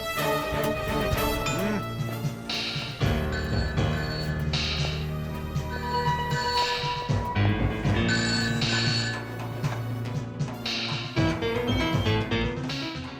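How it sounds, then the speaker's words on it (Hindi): A loud ringtone plays continuously, a bright melodic phone ring that repeats without pause, close and clear. "Sir, phone."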